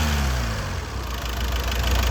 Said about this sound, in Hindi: एक्सीलेटर करो, बस छोड़ो।